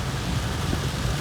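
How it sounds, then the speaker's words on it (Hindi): Heavy rain pours down on a road with near-zero visibility, a dense, loud, unbroken hiss of water with a low rumble beneath. "इतनी तेज़ बारिश हो रही है भाई साहब, बहुत तेज़।"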